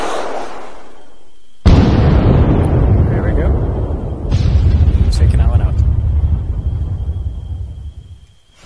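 An MPRL rocket launcher fires in a video game. A sudden loud blast is followed by a long, rumbling roar that fades slowly, with a second heavy boom a few seconds later, all close and dominant.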